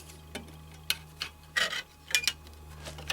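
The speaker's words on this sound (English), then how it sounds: "release the brake pad spring from the caliper and just force it over the edges with a screwdriver" A screwdriver pries a brake pad spring off a front brake caliper on a Vauxhall Vectra B, giving a few close, sharp metallic scrapes and clicks over a quiet, steady hum.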